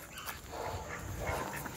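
Dogs bark and whimper somewhere off to the side of a permaculture food forest, a few scattered faint yaps and whines at a distance in an otherwise quiet outdoor setting.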